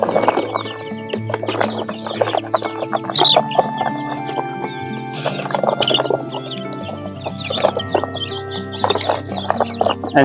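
Chicks hatched from farm hen eggs crossed with a desi rooster cheep and peep continuously, loud and close, with clucking hens and rooster calls mixed through the busy poultry din.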